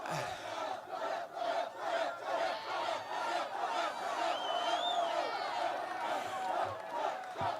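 A large outdoor political rally crowd in Western Michigan roars and cheers continuously, with loud whoops and shouts forming a dense, sustained wall of noise.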